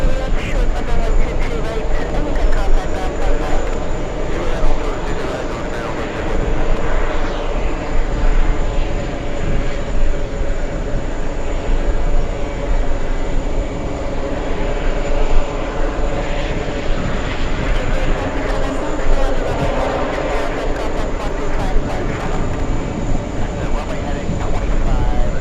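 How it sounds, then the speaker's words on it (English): An executive jet sits on an airport runway as a steady, loud jet engine roar fills the whole stretch, a constant dense rumble with no breaks. "There was an exec jet on the runway."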